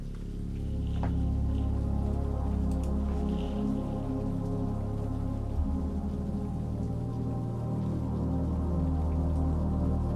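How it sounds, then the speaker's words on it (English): Two sustained bass notes sit under a soft ambient synth pad in a dark cinematic ambient piece built in Logic Pro, forming a quiet, steady drone with a low note shifting partway through. "I've just bounced in 2 notes complementing the ambient pad, and together they sound like this."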